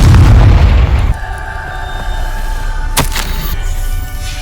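A Confringo blasting spell in the Hogwarts Legacy video game bursts with a loud, deep boom that fades into a ringing, tonal rumble, and a sharp crackling snap follows about two seconds later.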